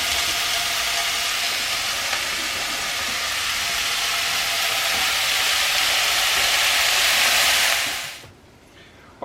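Ground beef sizzling loudly in a hot frying pan, a steady bright hiss and crackle for about eight seconds before cutting off abruptly into near silence.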